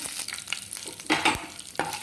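Curry leaves and tempering spices crackle in three tablespoons of hot oil for Rayalaseema uggani, a close busy sizzle with sharp pops and stirring scrapes over about two seconds, no talk.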